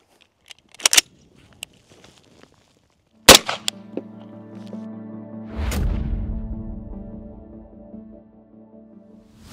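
A 62 grain full metal jacket 5.56 round fired at a lead-core-rated armor plate: a single sharp, loud report with a metallic impact ring, preceded by faint clicks and followed by a drawn-out rumbling decay.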